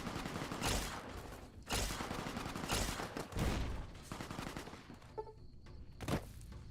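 Fully automatic weapons fire in Fallout: New Vegas comes in several dense, loud bursts of rapid shots, separated by brief lulls, with a sharp crack near the end.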